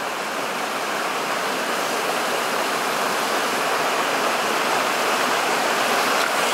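A remote mountain canyon stream rushes in a steady, loud, close hiss of flowing water, uninterrupted throughout.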